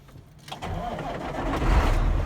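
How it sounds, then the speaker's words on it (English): A truck engine cranks and catches, building from quiet into a rising rumble that settles into a steady loud run. "Once the gauges go up and then down, I'm going to turn on the truck."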